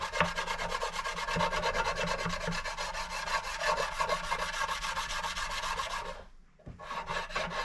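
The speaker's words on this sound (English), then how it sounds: "This is just a block of wood with sandpaper. I'm going to do this very lightly." Steady rapid rasping of sandpaper on a wood block rubbing lightly back and forth over stainless-steel frets on a Martin D28 guitar, continuous and close, with a brief pause near the end before resuming.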